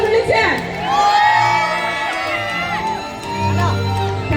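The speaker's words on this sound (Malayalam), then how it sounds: "ഒന്ന് കൈയടിച്ച് കൂടി വിളിച്ച്" A festive Onam stage-show audience cheers and whoops to welcome guests, with a loud, continuous crowd roar and high shouts rising and falling across the whole stretch while voices call out over it.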